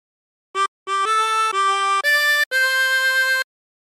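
A 16-hole tremolo harmonica plays the opening phrase of Happy Birthday: a short first note, then five sustained, reedy, wavering tones that step upward, close and clear with nothing else audible.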